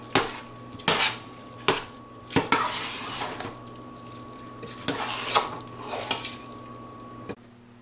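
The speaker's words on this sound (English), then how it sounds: "And I'm going to stir it in." Metal utensil scraping and clanking against a pan while pepper is stirred into lasagna meat sauce: a run of sharp, close knocks and scrapes in an irregular rhythm over a faint steady hum, with no voices.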